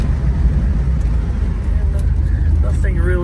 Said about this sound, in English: One more time, we're gonna put the brakes on.